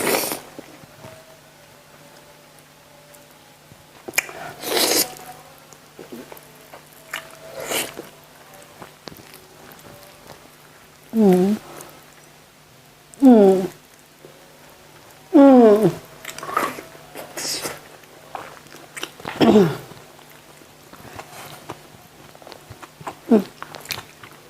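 Crunchy bites and wet chewing of jengkol beans come in short bursts, with pauses between, close to the listener amid some faint background noise.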